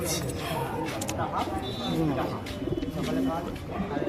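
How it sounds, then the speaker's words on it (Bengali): Pigeons cooing at a bustling town market, soft repeated coos among a crowd's chatter, with someone talking nearby over the birds. "খুব ভালো পায়রা পুরনো পায়রা"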